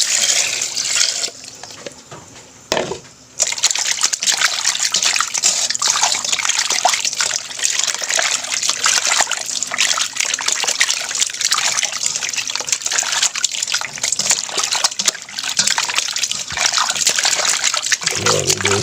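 Water runs steadily from a tap while food is washed by hand, a loud close gush with splashing and trickling that briefly pauses once before continuing.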